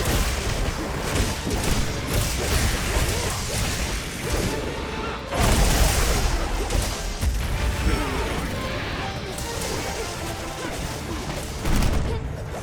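Heavy, booming gunlance blasts in Monster Hunter Wilds go off in loud repeated bursts, with explosive impacts and whooshes layered over a constant roar.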